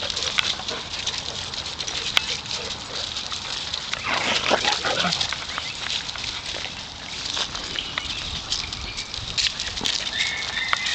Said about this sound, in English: That's that little schnauzer.